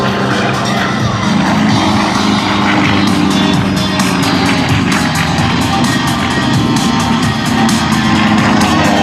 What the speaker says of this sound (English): Titus to our left and Zeke off to our right, inbound to Show Center with a closure rate of over 300 miles per hour as they set up to pull into the vertical